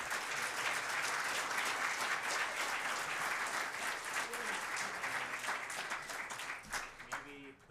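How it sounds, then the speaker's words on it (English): A crowd applauds the speakers at a higher education summit during a DrupalCon conference in Atlanta, with loud, dense clapping sustained for several seconds before it thins out and faint voices emerge near the end. "let's give it a round of applause for all our speakers today"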